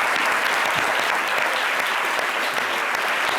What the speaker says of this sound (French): Je veux qu'on l'applaudisse bien fort.